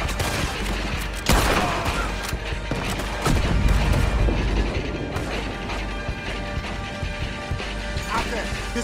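Gunfire during a Red Dead Redemption 2 shootout, with a sharp burst near the start and clattering shots and mechanical rattles mixed with continuous battle noise throughout.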